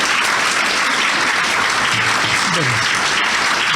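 Applause for migrants fills the room, steady and loud crowd clapping throughout, with a brief spoken word from a speaker at the end.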